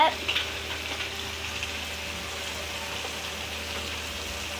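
Steady frying sizzle of onions and tomatoes with a soft crackle throughout, a few small clinks near the start, no voices.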